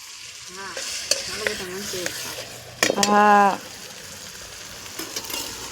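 Spices sizzle in hot oil as tempering for Manchurian while a utensil scrapes and clinks in the pan; voices talk briefly over the frying.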